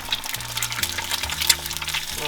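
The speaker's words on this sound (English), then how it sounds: "that needs a bit more of a sizzle" An egg fries in oil in a pan, a steady crackling sizzle that runs the whole time with small pops and spits, heard up close.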